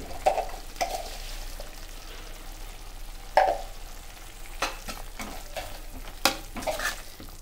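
A meal maker masala curry, just seasoned with chilli powder and salt, sizzles in a pan while a spoon stirs it, with soft scraping strokes and a few sharper clicks against the pan.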